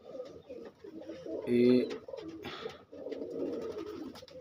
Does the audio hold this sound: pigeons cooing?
yes